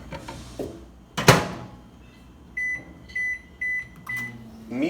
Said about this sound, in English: Put it for 3 minutes in the microwave at full power.